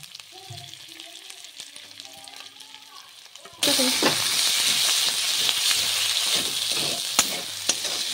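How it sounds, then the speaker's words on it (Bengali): A pan falls quiet apart from faint voices and kitchen noise, then bursts into loud, continuous sizzling as ginger-cumin paste and chilli paste hit the hot oil, with occasional stirring scrapes. "এবারে আমি আদা জিরে বাটা আর লঙ্কা বাটা দিয়ে দিচ্ছি"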